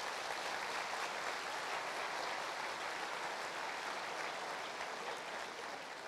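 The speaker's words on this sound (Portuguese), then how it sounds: "Vamos aplaudir ao Senhor" Steady, loud applause from a church congregation at a family seminar, sustained clapping filling the room for several seconds with no talk over it.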